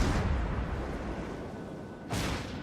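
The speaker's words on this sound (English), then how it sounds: "swinging the ship around, fire the forward turrets" The ARP Kongo's forward turrets firing in World of Warships: a loud, rumbling naval gun blast at the start fading into a long roar, then a second sharp boom near the end, with no talk.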